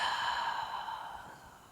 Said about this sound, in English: Slow and steady exhale.